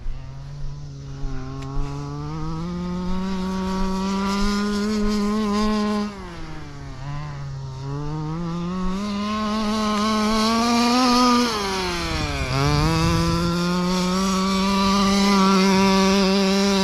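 A Rampage XB radio-controlled truck drives at full speed through turns, its high-pitched electric motor whine rising and dipping repeatedly as it slows and accelerates, loud and close for about seventeen seconds.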